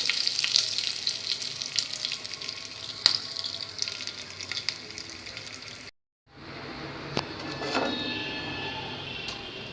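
Whole garam masala, cloves, cardamom, cinnamon and asafoetida sizzling in hot oil in a pan, a steady bright crackle that cuts out for a moment and then resumes with faint stirring clinks.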